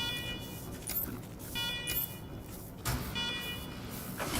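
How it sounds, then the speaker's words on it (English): Alarms blare in the Wasteland 3 video game, repeating bursts of a tonal wail roughly once a second over dense background game noise, fairly faint overall. "after you kill the alarms"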